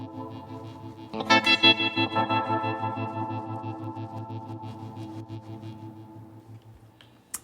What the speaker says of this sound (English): you really do hear how the delays, how the subsequent delays of the initial attack transform and disperse into the reverb